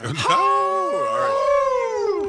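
A human voice imitates a wolf howl, one loud wavering cry that rises, dips and trails off at close range.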